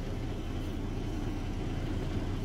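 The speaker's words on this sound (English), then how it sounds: "I hope you can hear me and not the engine" Steady low diesel rumble from a Swift dry van semi truck's engine, heard from inside the cab during a long haul from Phoenix to Texas, a constant dense drone with no breaks or talking.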